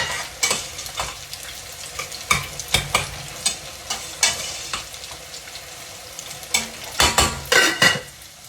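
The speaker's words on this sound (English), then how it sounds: "Let me give it a quick stir." Hush puppies frying in a pan while being stirred, repeated scraping and clattering strokes over a continuous sizzle, fairly close and with no talking.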